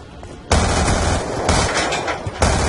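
Rapid, loud gunfire from the Black Ops 2 Gun Game mode, a dense burst starting abruptly and running continuously with sharp repeated shots, renewed by another hit near the end.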